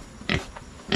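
A native pig grunts twice in short, close bursts, with a quieter grunt between them, on a farm with no talk.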